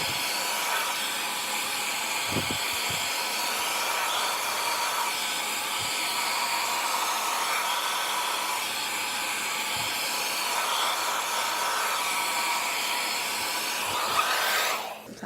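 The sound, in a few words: Doux blow dryer drying hair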